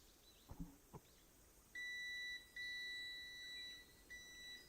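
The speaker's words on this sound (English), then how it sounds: "it should beep" A hardware project circuit gives off steady electronic beeps: one long tone, a brief gap, then a longer one and a third, clear and alone after a couple of soft clicks.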